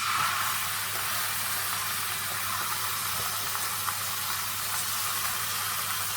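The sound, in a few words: pork shoulder searing in a hot pan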